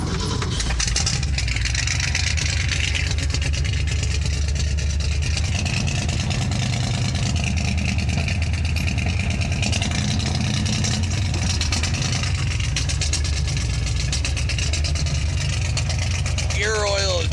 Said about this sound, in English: And the damn thing's idling.